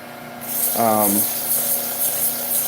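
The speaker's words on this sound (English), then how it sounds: "So that's a bowl gouge that I was using here." A bowl gouge cuts wood on a lathe while a steady motor hum runs underneath. A short, rough, rasping scrape rises briefly partway through, then the tool settles into a continuous close cutting hiss.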